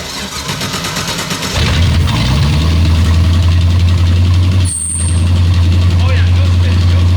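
MasterCraft boat engine cranking and catching, then settling into a loud steady low idle that dips briefly before resuming; a high short tone rings out midway.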